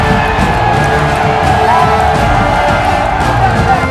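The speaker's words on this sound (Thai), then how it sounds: "กองเชียร์กว่าสอง0 0นคนกระโดดดีใจ โห่ร้องกันอย่างสนุกสนาน" Packed stadium crowd roaring in celebration as Thailand clinches the 2022 AFF championship, a loud continuous wash of cheers, whoops and shouts throughout with no break.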